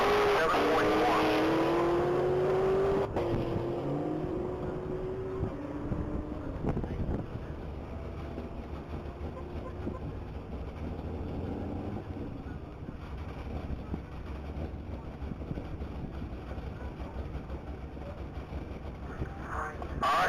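A 2017 Cadillac CTS-V racing down a mile-long top-speed track, its engine note rising and fading as it pulls away into the distance under heavy wind noise, leaving a faint rumble.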